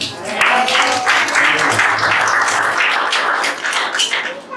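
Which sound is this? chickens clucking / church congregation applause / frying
church congregation applause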